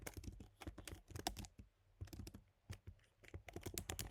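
Rapid, uneven clicking of keys on a computer keyboard, close and fairly quiet, in short bursts with a brief pause midway.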